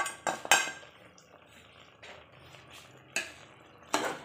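A spoon stirs chili powder into chicken curry in a metal pot, giving several sharp clinks and scrapes spaced irregularly between quieter stirring, close and moderately loud.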